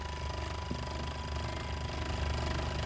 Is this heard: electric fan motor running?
yes